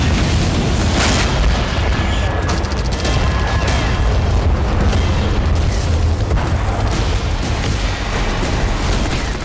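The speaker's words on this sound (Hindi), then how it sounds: "इजराइल के टैंक ने उस इमारत को निशाना बनाया जिसमें हमास की स्नाइपर पोस्ट थी।" Israeli tank shells strike a building in northern Gaza amid dense, continuous combat noise, with heavy booms and blasts layered over rumbling gunfire that never lets up, loud and close throughout.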